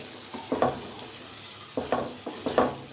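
Fried onions, a green chili and potatoes are stirred in hot oil in a pan, heard as several rhythmic spatula scrapes over a soft, continuous sizzle, close up with no voices.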